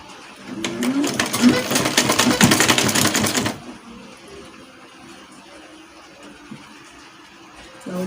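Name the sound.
sewing machine stitching a dress seam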